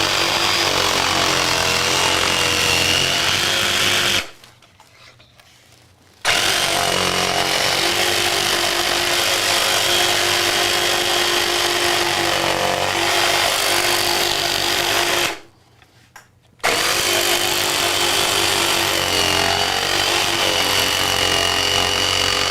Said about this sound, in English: we're gonna use the jigsaw. It's gonna be really loud